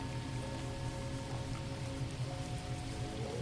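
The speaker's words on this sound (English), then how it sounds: "Let the rain continue, the same steady rhythm." Steady rain patters evenly on a surface, a continuous moderate hiss with no voices and no change in intensity.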